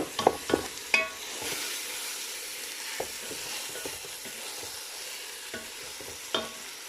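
A spoon scrapes and stirs tomato paste into a Bukhari rice and chicken dish, giving irregular knocks and scrapes against the pot over a steady sizzle, close up, with no voices.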